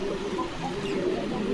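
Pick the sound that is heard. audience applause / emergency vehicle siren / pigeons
pigeons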